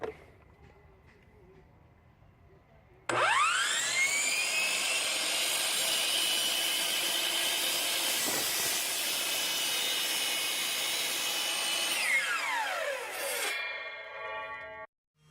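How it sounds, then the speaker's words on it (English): A loud, steady whining roar from a drill boring out a clamped wooden pen blank starts abruptly, holds for about ten seconds with rising and falling pitch, then winds down and stops, close by. "All right, so we got that second one drilled out without incident."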